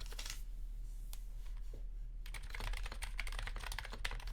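Typing on a Gehirn60 keyboard with DynaCap switches, 52 g domes on a stainless steel plate and GMK keycaps: a sparse start, then a dense run of quick, close clacks over a steady low hum.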